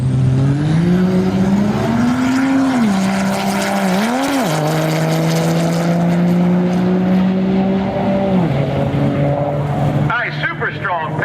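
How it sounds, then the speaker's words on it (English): A 4th-generation Cummins diesel drag truck makes a hard pass, its loud sustained engine drone rising and shifting pitch through gear changes as it roars past, with a brief change near the end. "Oh, you just saw a 10-second diesel truck."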